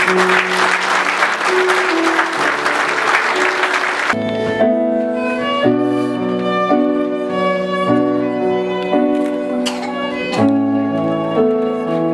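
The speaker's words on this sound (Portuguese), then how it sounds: "Pode aplaudir" Wedding guests break into steady applause right after a couple is pronounced married in a church ceremony; the clapping lasts a few seconds before music takes over.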